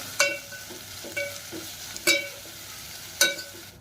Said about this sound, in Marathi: कांदा चांगला आपल्याला त्यात परतून घ्यायचा आहे